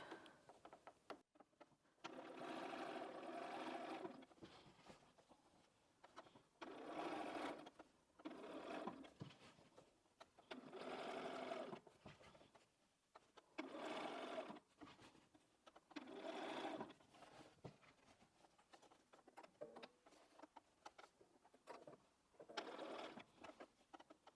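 A sewing machine stitches binding around the curved edge of a Christmas tree skirt, running in repeated bursts of steady whirring separated by short pauses, close and clear with no talking.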